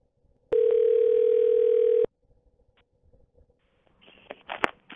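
After a scam phone call disconnects, a steady telephone dial tone sounds clearly for about a second and a half, then cuts off, followed by faint rustles and clicks.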